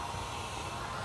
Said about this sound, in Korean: 헤어드라이기 꽂아가지고, 저 인버터 작동되기 때문에 헤어드라이기 작동되세요.